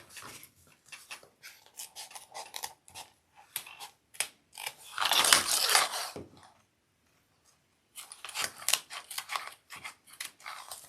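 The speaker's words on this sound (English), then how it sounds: "So I'll trim down the zipper tape." Scissors trimming zipper tape for a convertible bag, a close series of crisp snips and small clicks in irregular bursts, with one louder rustling cut in the middle and a short pause before more quick snips.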